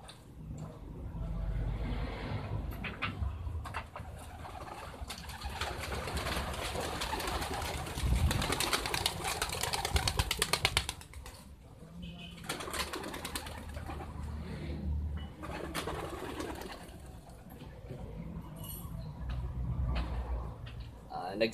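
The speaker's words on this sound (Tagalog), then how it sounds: "Nagsilabasan na nga yung mga ibon natin," A flock of racing pigeons bursts out of a loft and flies off, wingbeats and soft cooing mixed with outdoor background noise and occasional passing traffic, fairly steady throughout.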